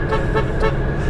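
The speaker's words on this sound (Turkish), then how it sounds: "Orijinal kornası." Original horn of a Tofaş Şahin car honking in one short, loud, steady toot, close by with no talk over it.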